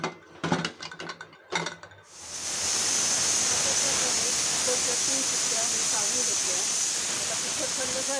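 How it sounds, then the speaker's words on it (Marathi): A pressure cooker filled with Maharashtrian dal vangi, a lentil and eggplant curry, releases a loud, steady hiss of steam that runs on without a break after a few seconds of clattering as the lid goes on. No distinct whistle is heard. "आता आपण झाकण लावून घेऊया कुकरला आणि 2 ते 3 शिट्ट्या काढायच्या।"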